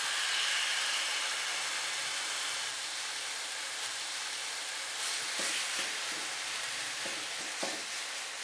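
Marinated chicken fries in a pan with a steady, broad sizzle throughout, and a few soft knocks and scrapes of stirring near the end.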